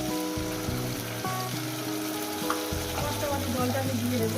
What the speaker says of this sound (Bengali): আর ডাঁটাটাকে দিয়ে আরও আমি 5 মিনিট ভেজে নেবো।